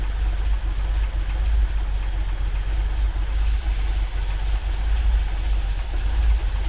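A cold MGB engine with twin SU carburettors idles steadily with a low, even rumble and no other sounds.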